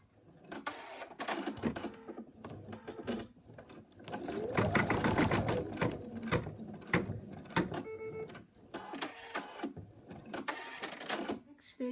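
An embroidery sewing machine stitches around a toy cat, giving rapid mechanical clatter in bursts with a longer steady run in the middle, close by, with speech at times.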